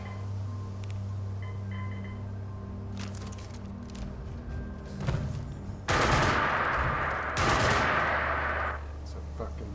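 A 5.56 machine gun fires in Fallout 4, starting with scattered shots and building into two loud, close bursts of rapid automatic fire toward the end of the clip, with no voices over the firing.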